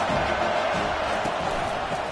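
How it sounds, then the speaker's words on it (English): A steady, dense crowd roar fills a stadium in a Madden football video game, a constant wash of noise with no distinct voices standing out. "This crowd trying to make life miserable for this offense."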